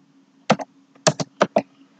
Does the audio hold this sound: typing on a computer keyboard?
yes